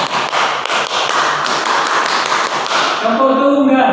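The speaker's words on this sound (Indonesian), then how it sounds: "Tepuk Pramuka," Scout group clapping pattern (tepuk Pramuka) during a scouting fundamentals session at a teacher-training program: a crowd's loud, dense, rhythmic claps for about three seconds, ending abruptly as cheering voices rise.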